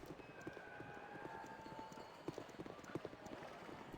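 Horse hooves clip-clop in a steady walking rhythm, fairly close, with faint game tones humming in the background, in the video game Baldur's Gate.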